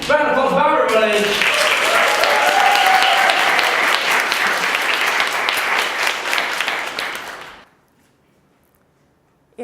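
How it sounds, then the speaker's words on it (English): Loud audience applause at a live public-speaking contest, a thick sustained burst of clapping that fades away and falls silent near the end. "Round of applause for everybody!"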